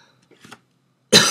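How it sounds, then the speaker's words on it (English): Faint, soft throat sounds lead into a sudden, loud, harsh cough close to the microphone. "if you hear me coughing."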